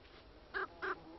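Two short, harsh caws from a bird ring out in quick succession at moderate distance over a low background hiss, with no talk.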